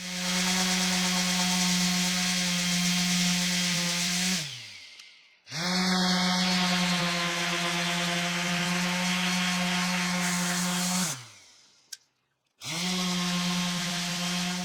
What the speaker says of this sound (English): I used the 40 grit disc on an orbital sander and that made pretty light work of it.